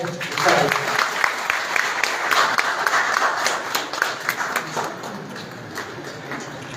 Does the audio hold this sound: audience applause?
yes